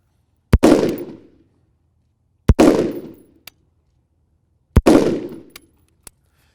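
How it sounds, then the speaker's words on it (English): Rifle shots fired during zeroing of an EOTech sight, three loud, sharp reports spaced about two seconds apart, each ringing briefly outdoors, with faint metallic clinks after the shots and no talking. "you're gonna fire that 3 to 5 round group"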